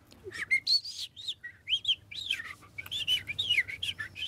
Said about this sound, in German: Und dann die kleine Blaumeise, die singt so, die macht so.